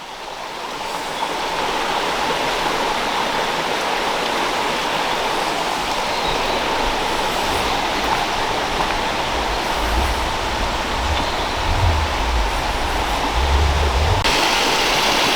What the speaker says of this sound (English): Here we have a little tributary running into the river and coming down with quite a bit of force there at the moment.